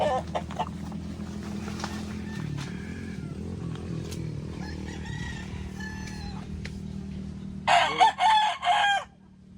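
Several chickens and roosters on a farm, with rooster crowing and scattered clucks over a low background hum, ending in a loud close burst of crowing calls.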